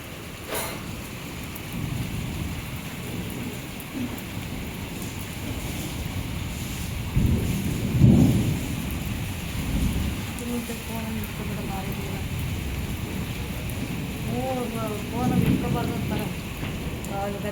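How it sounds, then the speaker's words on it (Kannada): Heavy rain pours steadily, with low rolls of thunder swelling around the middle and again near the end, while a person speaks intermittently under the downpour. "ಹಾಗೆ ಚೆನ್ನಾಗಿ ಮಳೆ ಕೂಡ ಶುರುವಾಗ್ಬಿಟ್ಟು"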